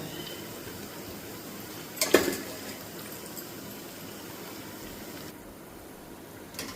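Potato bajji fritters sizzle steadily in hot oil, a continuous close frying hiss with a brief clatter of utensils partway through.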